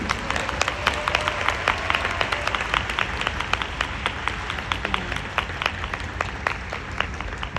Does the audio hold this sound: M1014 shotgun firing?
no